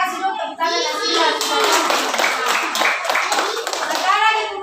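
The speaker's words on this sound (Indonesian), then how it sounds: "kasih dulu tepuk tangan yang siap" Children in a classroom clap together while young voices and an adult talk over them, the clapping a busy, rhythmic patter under loud, close speech.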